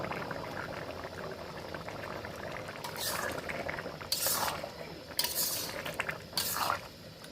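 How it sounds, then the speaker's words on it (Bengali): Mutton curry bubbling in a pot, a steady low simmer heard close with bursts of brighter bubbling and clinking near the end; no talking. "আমাদের মাংসের জলটাও টেনে এসছে, পুরো ফুটে গেছে, মাংসটা সেদ্ধও হয়ে গেছে।"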